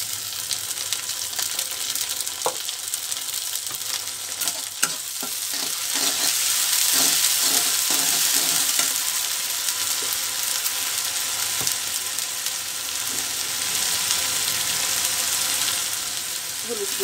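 A ginger, garlic and cumin paste frying in a pan, giving a steady, dense hiss of sizzle with occasional scrapes and taps of a spoon stirring throughout.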